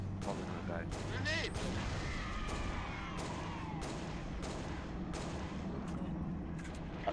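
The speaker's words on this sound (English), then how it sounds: "Grenade!" A grenade explodes in a Halo video game firefight. Booming blasts and scattered gunfire roll through a constant wash of battle noise, with no voices over it.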